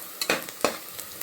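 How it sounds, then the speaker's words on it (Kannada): Sizzling ghee in a pan for ghee rice, with short bursts of stirring and crackling frying, close and fairly clear, no voices. "ಫ್ರೈ ಆಗ್ತಾ ಇದೆ ನೋಡಿ. ಇನ್ನೊಂದು ಚೂರು ಫ್ರೈ ಮಾಡ್ಕೊಳ್ಳೋಣ"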